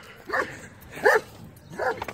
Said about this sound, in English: Here come this dog.